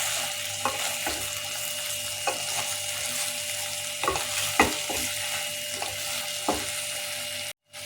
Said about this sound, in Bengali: আর আমি টমেটো সস ঢেলে নিলাম। এবার আমি এগুলো সব মিক্স করব।